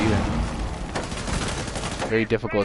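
Gunfire in a tactical shooter video game, a dense stretch of rapid shots through recoil, fairly loud and continuous, with a brief tonal sound near the end.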